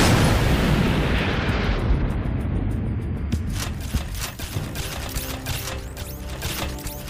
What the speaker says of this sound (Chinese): 看我的炸弹。